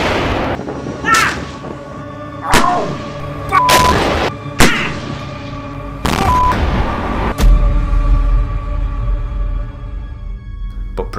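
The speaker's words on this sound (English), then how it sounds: "shell was fired." Heavy booms from a tank shell being fired, several big thumps spread across the clip, each followed by a long rumbling decay over a constant low roar.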